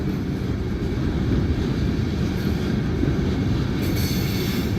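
A freight train passes on a railroad line in the morning, a steady loud rumble of rail cars with a faint squeal of wheels rising near the end, continuous and close with no talking.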